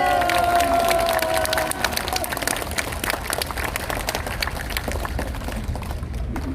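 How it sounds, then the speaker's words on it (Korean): Audience applause for a speaker on an education-themed Korean podcast, a dense wash of clapping with crowd noise throughout, a tonal voice or music fading out over the first couple of seconds. "다시 한번 큰 박수 한번 부탁드립니다"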